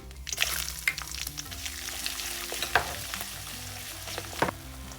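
Chopped garlic, curry leaves and mustard seeds crackle and sizzle in hot oil for a Kerala-style kanthari chilli pickle. A steady fry hiss is broken by sharp, irregular pops and spatters throughout, close and fairly loud, with no talking.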